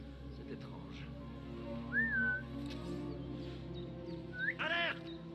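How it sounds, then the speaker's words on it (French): A bird whistles inside the desert world of the video game Assassin's Creed Mirage: two short rising whistles and a brighter chirp stand out over a steady ambient game soundscape. "c'est juste un oiseau qui siffle là"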